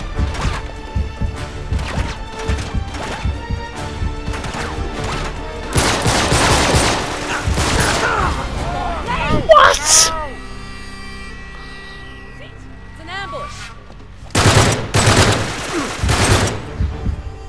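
Gunfire in the video game Uncharted 3 on hard mode, with bursts of rapid shots and crashing impacts alongside other game effects, loud and close, while a player talks over it.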